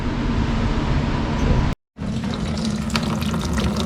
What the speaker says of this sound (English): we got the coolant draining out of there